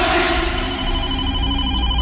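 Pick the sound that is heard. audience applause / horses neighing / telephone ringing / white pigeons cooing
telephone ringing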